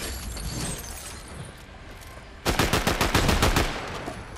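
Automatic gunfire in the video game Fortnite rattles out as a fast burst of about ten close, loud shots partway through, following a stretch of steady game noise, with no one talking.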